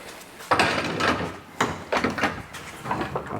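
A sliding drawer shoved back into a trailer, two or three loud thuds and rolling slides close by, each followed by rattling as it settles and locks in.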